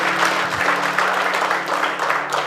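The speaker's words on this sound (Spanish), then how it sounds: "Denle un fuerte aplauso al Señor" A church congregation breaks into applause for the Lord during a service, a steady wash of many hands clapping that fills the space, with a low held organ or keyboard tone sounding underneath throughout.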